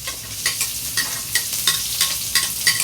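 Garlic and onion sizzle in a pan, with a spatula scraping and stirring in a regular rhythm of sharp strokes over the steady frying hiss.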